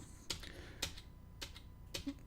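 Computer keyboard keys struck in a slow, irregular series of four or five sharp clicks, close by over a steady low hum.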